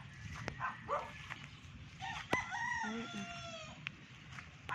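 A fighting rooster crows once in a drawn-out call at moderate distance, with scattered clucks and sharp clicks around it in a quiet outdoor setting.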